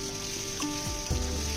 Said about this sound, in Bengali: গ্যাসে কড়াইটা বসিয়ে আবার একটু পরিমাণে তেল যোগ করে আমি আলুটাকেও ভেজে নেব